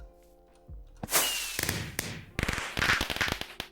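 Minecraft fireworks launching at a crossword puzzle win, a quick series of sharp pops, whooshes and crackles in game audio, with clicks of item placement at the start.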